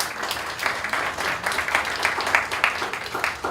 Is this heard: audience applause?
yes